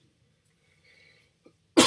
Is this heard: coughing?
yes